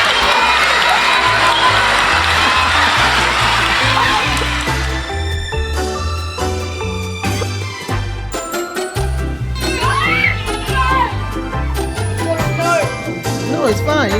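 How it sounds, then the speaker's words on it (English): Children cheering and shouting during a Jenga party game, a loud excited burst of voices at first, then giving way to music with a steady beat and occasional high squeals. "These kids were really cheering for the auntie"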